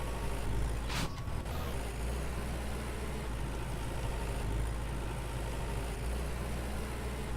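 Low, steady engine rumble of a tractor driving in the farming game Farmer's Dynasty, continuous and fairly loud throughout, with a brief sharp hiss near the start.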